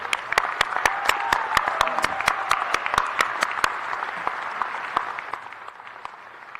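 Audience at a university spring commencement applauding a symphonic band and bagpiper: a dense round of clapping with crisp individual claps near the front, sustained for about five seconds and then tapering off.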